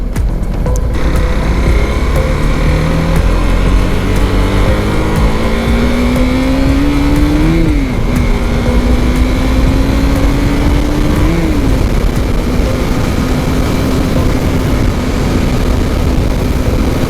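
A KTM Duke 390 BS6 motorcycle after a year of ownership is ridden hard, its loud, steady engine note climbing through the gears with two clear shifts, under constant wind roar and with no talking.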